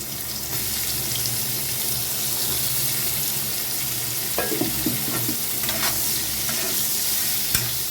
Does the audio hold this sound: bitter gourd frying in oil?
yes